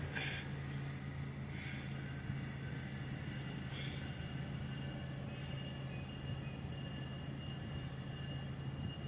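A Norfolk Southern freight train with a caboose crosses a bridge, a steady distant rumble with a low hum and faint high wheel squeals, quiet and continuous throughout.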